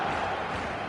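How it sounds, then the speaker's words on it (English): Stadium crowd noise from an eFootball match on PS5 with Spanish clubs, a steady dense roar of many voices filling the whole moment without a clear break. "the crowd have tried to spark some excitement, but to no avail"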